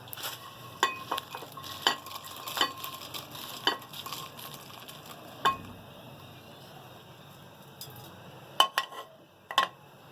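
Whole chillies and garam masala fry in a pan for beef shami kabab, a soft sizzle beneath intermittent sharp clinks and scrapes of a spoon against the pot, no voices.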